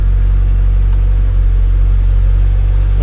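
A 2014–2021 Mazda 6 with a P011A fault idles at close range, a loud, steady low rumble that stays even throughout.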